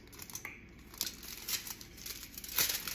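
Scissors snip through a folded sheet to cut out a quarter circle, a few quiet close crinkly cuts and paper rustles over about three seconds.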